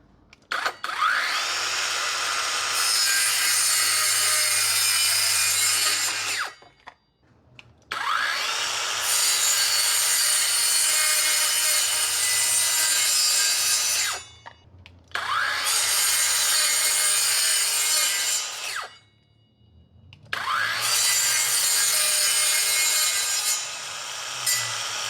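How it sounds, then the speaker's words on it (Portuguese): A cordless Hanabi brushless circular saw cuts through MDF in four separate passes, each a loud, sustained whining rip that spins up, holds and stops, with brief quiet gaps between cuts. "Vamos fazer o corte nesse MDF aqui para começar."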